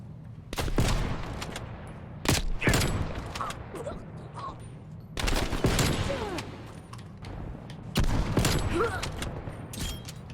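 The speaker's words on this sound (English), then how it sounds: "every time you look down your scope of your semi-automatic weapon, it automatically fires a shot" Semi-automatic weapon fire in a shooter video game on Xbox Series X, triggered by a quick-scope controller mod: loud booming shots in uneven bursts with echoing tails and mechanical clatter between them.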